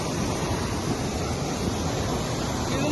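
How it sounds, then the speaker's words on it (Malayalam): Dam water forced upward by pumps surges in a steady, loud, close roar of churning water, continuous with no talking. "ഭയങ്കര ശക്തിയിലാണ് ഇത് അടിയിൽ നിന്ന് മുകളിലോട്ട് വെള്ളം ഫോഴ്സ് ചെയ്യുന്നത്."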